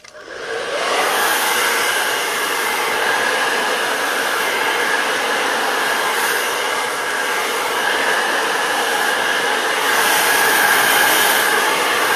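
A hair dryer blows steadily while hair is dried with a round brush, a loud, constant close-up whoosh of rushing air with a slight whine, running alone and unbroken throughout.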